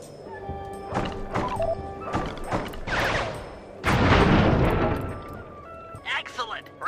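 Fireworks launch and burst at targets in the video game Sly 3, a series of popping thumps and crackling explosions with mechanical clicks, growing into a dense rumbling blast midway, while game dialogue plays over it.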